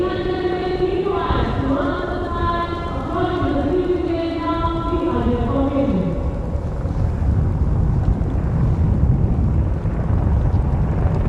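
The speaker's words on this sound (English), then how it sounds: "Apache helicopter victory formation में कर्तव्य पथ के ऊपर पहुंचते हुए" Apache helicopters flying in victory formation over Kartavya Path during the Republic Day parade, a loud, steady rotor and engine roar with shifting harmonic tones that fade into a broad rumble.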